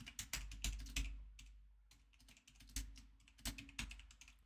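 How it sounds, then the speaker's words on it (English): Quick typing on a computer keyboard, close and fairly soft, with irregular bursts of key clicks and brief pauses between them, and no one speaking. "yeah, I'm just typing it out real quick"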